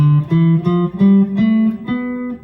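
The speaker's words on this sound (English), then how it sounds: "So a major scale sounds like this" Guitar notes climb a major scale one after another, each plucked note ringing briefly before the next, clear and close with no voices.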